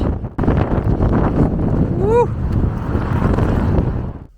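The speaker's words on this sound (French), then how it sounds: "Il y a un vent de fou, encore pire que tout à l'heure." Strong gusting wind buffets the microphone outdoors near Luleå, Sweden, a loud continuous low rumble across the whole stretch, with a brief vocal exclamation in the middle.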